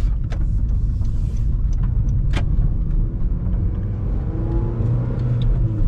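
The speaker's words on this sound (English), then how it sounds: "put it in first gear," A manual transmission car pulls away in first gear. The engine gives a steady low rumble heard from inside the cabin, with a few faint clicks and knocks over it.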